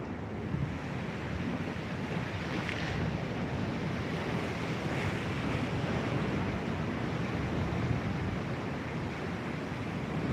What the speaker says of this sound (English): Check these waves.